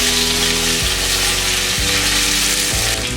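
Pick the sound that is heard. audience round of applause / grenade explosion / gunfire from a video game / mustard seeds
mustard seeds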